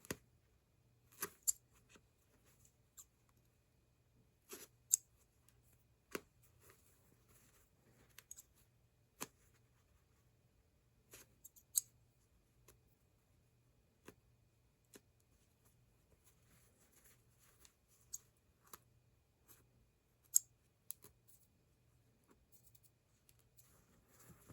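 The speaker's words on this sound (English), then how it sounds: "we're going to do some cool cutting stuff" Scissors snipping through fabric to shape a pocket flap, heard as sparse, sharp clicks and snips spaced irregularly over a quiet background with a faint low hum.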